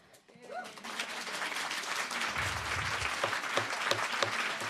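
An audience at a city council meeting bursts into applause after a public speaker, clapping swelling quickly and holding steady and fairly loud, with a few louder individual claps standing out near the end.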